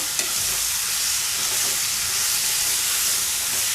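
Malvani-style squid masala with kokum sautés in a pan, a loud, continuous close-up sizzle and hiss with stirring, no voices.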